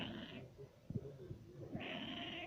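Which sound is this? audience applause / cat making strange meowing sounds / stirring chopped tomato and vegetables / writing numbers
cat making strange meowing sounds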